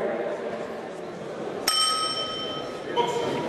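Single bright bell strike marks the start of the first round of a fight, ringing with a sustained metallic tone, followed by a fainter second ding, while someone speaks beneath it.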